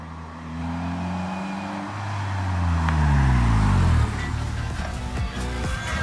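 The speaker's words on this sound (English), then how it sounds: "Oh, look, a Polaris Slingshot." A Polaris Slingshot approaches with a rising engine drone that swells louder as it nears, then settles into a nearby idle rumble.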